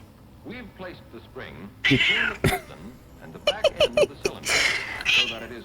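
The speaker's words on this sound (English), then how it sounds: "Yeah, that was my cat, though." A house cat meows a few times nearby, short cries mixed in with someone talking over a video game stream.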